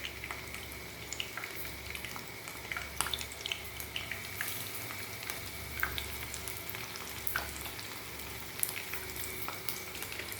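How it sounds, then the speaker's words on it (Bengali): Pakoras of pumpkin leaf and shrimp fry in hot oil, a steady low crackle and fizz with scattered sharper pops, fairly faint and even throughout with no one talking. "একসাথে আমি 4টে দিয়ে ভাজবো, তারপরে আমি আরও বাকিগুলো ভেজে নেব।"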